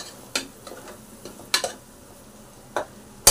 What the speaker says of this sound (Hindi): मैंने मसाला अच्छे से भुने हूँ, पूरा सूखा हो गया है, और अभी और भूनने जाएंगे तो जलने लगेगा नीचे